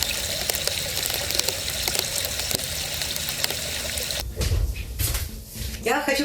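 Water runs and trickles into the frame of an RV trailer, a steady splashing flow that breaks up into irregular drips and gurgles near the end, captured close up.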